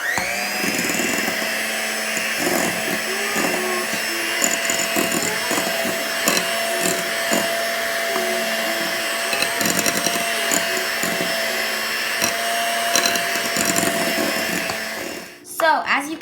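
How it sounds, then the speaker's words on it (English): An electric mixer with a beating attachment whips cream into fresh butter, a steady whirring motor drone with rattling bowl contact running nearly throughout before cutting off near the end. "I'm gonna go back to whipping it with my beating attachment."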